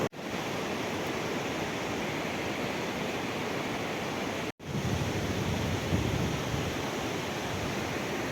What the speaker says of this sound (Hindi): यह है साथ में नदी, बहुत बड़ी नदी है ये।